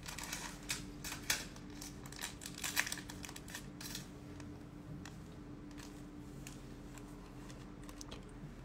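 A nail tool kit package being opened during a pedicure session, giving soft crinkling and crackling of plastic wrap with a few sharper snaps, close and moderately quiet, with no talk.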